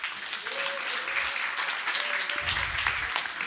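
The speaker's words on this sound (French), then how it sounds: "Vous pouvez l'applaudir." A conference audience claps at the start of a morning talk on musical acoustics, giving a steady burst of applause with a brief voice heard through it.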